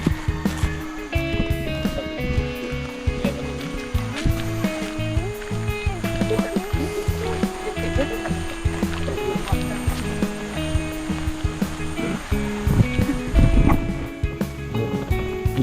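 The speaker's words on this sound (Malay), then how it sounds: "Air terjun Sungai Gabai" The Sungai Gabai waterfall gives a continuous rushing wash of falling water, steady and fairly loud, with some tonal sounds layered over the roar.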